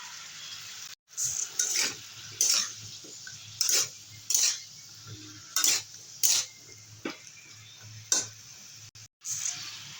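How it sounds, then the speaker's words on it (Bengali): A spoon stirs drumstick pieces into a simmering pabda fish curry with raw banana. About ten sharp metallic scrapes and clinks strike the pot at uneven intervals over a low, steady hum. "এবারে দিয়ে দেবো সজনে ডাটা"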